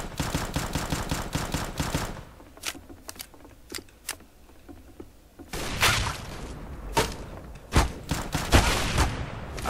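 Gunfire in the Roblox game CS GO, a series of sharp shots in bursts, some isolated single cracks and some rapid clusters, loud and close, with quieter gaps between.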